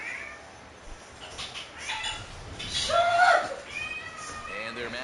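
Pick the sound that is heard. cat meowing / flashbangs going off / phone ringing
cat meowing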